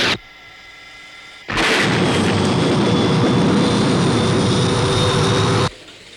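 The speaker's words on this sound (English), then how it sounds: "Paul, there's another aircraft." A jet aircraft roars in abruptly with heavy rapid weapon fire, a loud sustained blast of engine noise and gunfire lasting about four seconds before cutting off to a low hum.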